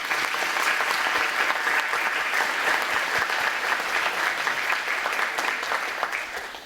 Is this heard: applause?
yes